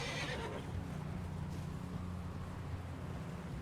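A horse whinnies briefly at the start in the Red Dead Redemption 2 video game, followed by a steady wash of rain or wind ambience, fairly quiet overall.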